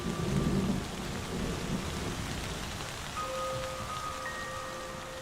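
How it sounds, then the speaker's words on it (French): Rain pours steadily across the savanna of Kruger National Park, South Africa, with a deep rumble of thunder near the start, the downpour a continuous hiss and patter throughout. "Avec la marche des saisons, c'est le retour de la pluie."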